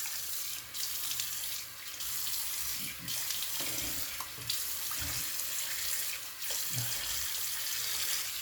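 Tap water runs steadily into a sink while a face is rinsed after shaving, the close rushing stream cutting off briefly a few times and broken by splashy hand-scooping sounds, with nobody speaking.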